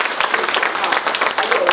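Brief burst of audience applause at a Yunlin hometown association event supporting Hualien, dense clapping throughout with voices mixed in.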